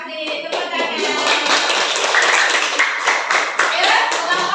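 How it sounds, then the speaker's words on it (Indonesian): Classroom children clap their hands together in a loud, fast, sustained burst of applause lasting a few seconds, close by, with voices mixed in. "Tepuk tangan."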